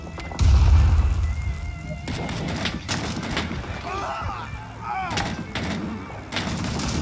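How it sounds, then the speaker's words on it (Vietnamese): Rapid gunfire crackles through a Vietnam War battle in the video game Rising Storm 2: Vietnam, with heavy booming shots, distant bursts and a steady combat din while players talk over it. "Cái này bắn nhanh phết đi chứ."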